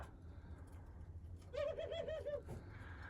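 Racing pigeons coo in one clear, wavering call lasting about a second, over a steady low background rumble, with no talking.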